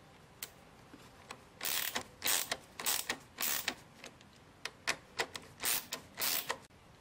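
A ratchet tightens a car battery terminal clamp in repeated bursts of quick clicking, about a dozen short runs of pawl clicks with brief pauses between them, close and crisp against a quiet background.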